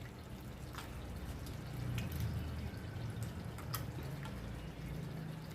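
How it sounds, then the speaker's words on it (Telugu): Hands squeeze and knead tamarind pulp in water, making soft wet squelches and faint drips close by, with a few sharp splashy clicks over a low background hum. "ఇంతలోకి నేనైతే చింతపండు పులుసు అయితే పిసుకుంటున్నా"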